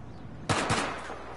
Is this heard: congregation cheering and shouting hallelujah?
no